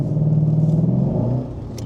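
A Lexus ISF engine revving close by, a loud, steady, deep drone with rich harmonics that eases off slightly toward the end.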